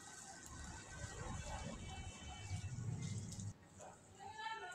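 Chicken frying with spices in a pan as a little water is added, a steady close sizzle and hiss with a low rumble that swells briefly, then drops back to a quieter crackle.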